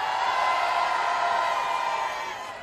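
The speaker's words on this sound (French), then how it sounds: "c'est Viviane Lambert, applaudissez-la." A crowd at a public rally applauding and cheering Viviane Lambert, a sustained loud wash of clapping and whoops that holds steady and eases slightly at the end.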